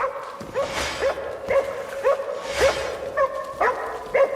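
A dog in the video game Crimson Desert barks repeatedly and insistently, a run of sharp, close barks with brief whimpering tones, heard alone without talk.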